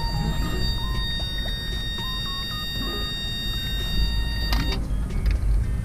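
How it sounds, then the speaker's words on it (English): Lowered van starting up, with a steady low engine rumble and a string of electronic dashboard beeps and chimes ringing out close inside the cab. "Go ahead and start the van."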